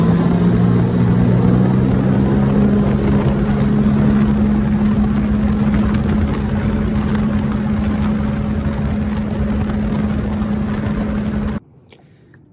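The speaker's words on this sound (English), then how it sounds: "hopefully it gives a better representation of how the supercharger sounds on this kit" A Sea-Doo jet ski engine fitted with a Riva Stage 3 supercharger runs as a loud, steady drone with a whining tonal edge, holding constant for about eleven seconds before cutting off abruptly.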